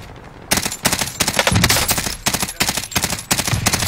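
Rapid bursts of automatic gunfire from a video game weapon sound in loud, repeated volleys separated by short pauses, close and dominant.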